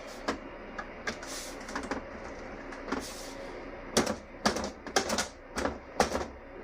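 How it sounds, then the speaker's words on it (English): A grommet pops into a pre-drilled hole with a few sharp, close clicks and snaps, clustered toward the end among quieter handling taps. "I put the grommet in. It just pops in a hole."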